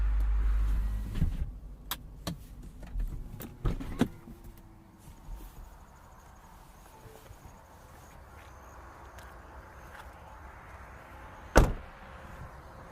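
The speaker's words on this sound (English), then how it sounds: "let's just show you what it looks like with the top up" A 2021 Lexus LC 500 Convertible's soft top rises with a low mechanical whir, scattered clicks and knocks, and a sharp latching clunk near the end, heard up close with no talk.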